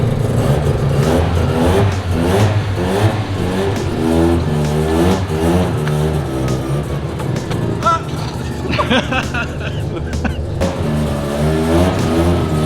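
A car engine revs and labours as the vehicle creeps forward very slowly, a loud, close rumble rising and falling in pitch with occasional clunks, while people talk over it.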